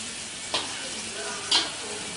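Prawns and garlic frying in a hot pan during a Malaysian cooking class, a steady close sizzle with two brief louder bursts as the food is stirred or moved.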